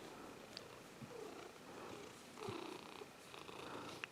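A cat purrs softly at an outdoor shooting area, a faint continuous rumbling drone with light rustles and a couple of small clicks.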